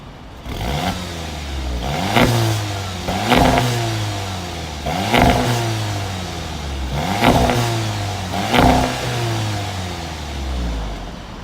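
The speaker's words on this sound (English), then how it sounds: "I'm just going to give you some clips of engine sound now" A 2018 Audi TT's 1.8 litre engine revving repeatedly, about five rising and falling bursts in a steady rhythm, loud and close with a rough mechanical tone.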